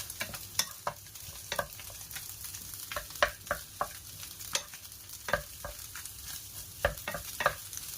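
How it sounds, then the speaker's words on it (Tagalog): Cooked rice and luncheon meat are stir-fried in a pan, giving a soft, steady sizzle. Frequent scraping and clinking strokes of a spatula against the pan repeat in an irregular rhythm. "Tsaka i-stir fry lang po natin."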